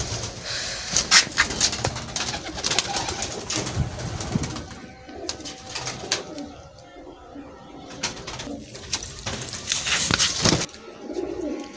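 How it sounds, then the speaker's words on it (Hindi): Pigeons coo softly among rustling and flapping noises, with a faint voice or two in the background. "यह कबूतर है जनाब, यह तुहानू छड्ड के विखाने आ।"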